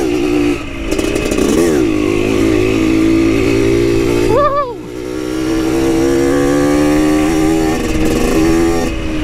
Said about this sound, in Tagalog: Off-road na tayo. Dahan tayo dahil matagal na tayo hindi nakasakay ng dirt bike.